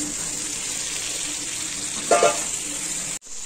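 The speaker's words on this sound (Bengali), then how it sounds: "মশলাগুলো কষানো হয়ে গেছে, এখন আমি কাঁকরোলগুলো ছেড়ে দেব।" Pieces of pointed gourd (kakrol) frying in spiced oil for a katla fish curry: a steady, fairly loud sizzle with a brief burst near the middle, cut off abruptly just before the end.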